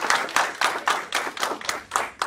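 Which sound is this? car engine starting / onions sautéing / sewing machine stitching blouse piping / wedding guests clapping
wedding guests clapping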